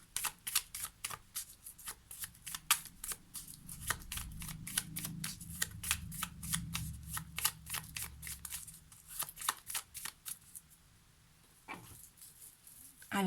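Oracle cards being shuffled by hand before the deck is cut, a steady run of crisp, close riffling flutters and slaps that pauses briefly near the end, with no talking.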